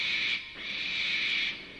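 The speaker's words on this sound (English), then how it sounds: "It was only an owl, but Percy didn't realise this." An owl hoots at night, a steady, high, whistle-like call held for a moment, a brief break, then a longer sustained hoot, fairly loud and alone.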